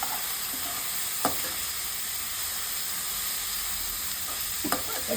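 Green peas tossed into a hot pan for vegetable poha fry with a steady hissing sizzle, broken by a couple of sharp spatula clicks and stirs, close by.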